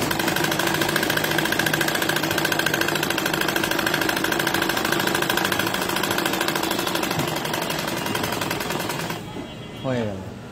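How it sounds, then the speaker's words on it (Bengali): A sewing machine runs a top stitch on a salwar, a fast, even mechanical rattle that holds steady and close for several seconds, then slows and stops, with a short clunk at the end. "এখন এটার উপরে আমি একটা চাপ সেলাই দেবো।"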